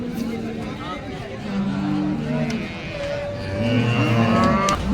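Cows moo repeatedly over a busy outdoor hubbub of people talking at a cattle market in Sangola, the deep lowing calls near and loud, one after another.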